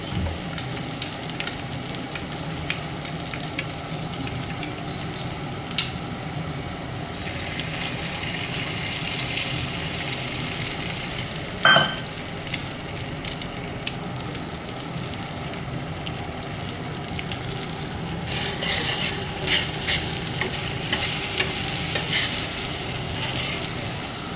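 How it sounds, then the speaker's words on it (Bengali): Scrambled egg bhujia frying on a tawa that was just used for parathas, a steady broadband sizzle running throughout with occasional sharp clicks of a spatula against the pan, no voices. "ওই তাওয়াতে আমি ডিমের ভুজিয়াটা করে দিচ্ছি"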